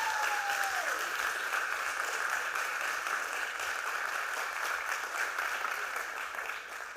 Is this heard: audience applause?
yes